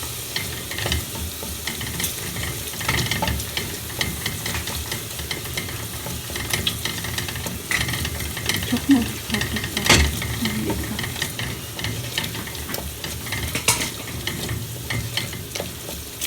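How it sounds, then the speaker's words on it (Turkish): Tomato paste fries with onion, pepper and garlic in a pan, giving a steady close sizzle broken by frequent scraping and clacking stirring strokes throughout, with no one talking. "salçanın kokusu gidene kadar kavurayım mı?"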